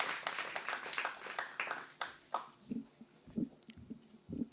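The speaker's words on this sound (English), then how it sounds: "Please give a round of applause for our 9th place winner." An audience claps at the Gleaner Spelling Bee Championship 2023 for a ninth-place finisher. The claps are scattered and fairly sharp, then thin out and fade within a few seconds, leaving a few soft low thumps.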